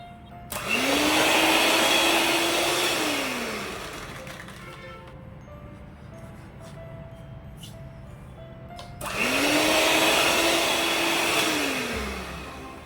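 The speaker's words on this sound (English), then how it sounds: "To this I will add sugar little by little and beat it again." An electric mixer beats sugar into rich plum cake batter for a Christmas bake, running in two loud whirring bursts with a rising and falling pitch, separated by a quieter pause in the middle.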